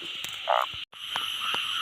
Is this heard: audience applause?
no